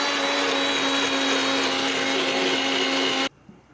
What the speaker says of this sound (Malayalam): അപ്പോൾ നമുക്കതൊരു മിക്സിയിലിട്ട് അടിക്കാം